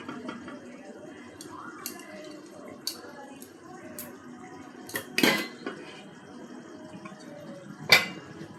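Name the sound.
cooked biryani rice being layered into a pot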